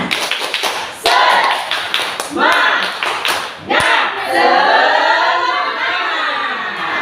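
A high school class does a rhythmic spirit-clapping routine, loud close claps in quick patterned bursts, mixed with children's voices chanting along through the later part.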